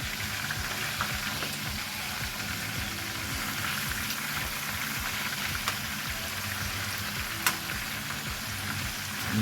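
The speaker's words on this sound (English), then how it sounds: "I'm gonna let this one fry a little bit more." Red snapper fillets frying in hot oil give a steady, close crackling sizzle throughout, with a few sharper pops and no talking.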